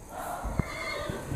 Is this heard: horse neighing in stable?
yes